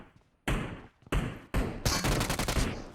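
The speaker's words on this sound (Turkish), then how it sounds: "Adamlar bana attı ya bombayı" Gunfire and explosions in the PUBG Mobile video game crack out as a rapid burst of sharp, loud blasts in quick succession, separated by brief pauses, with no talk over them.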